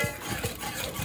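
A whisk stirs a thick, creamy clam chowder base in a pot, giving a steady rhythm of soft scraping and sloshing strokes up close, with no talking.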